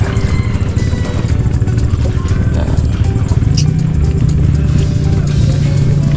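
A motorboat engine runs steadily, its loud low drone and buzzing harmonics rising a little in pitch partway through, while faint voices may sit underneath.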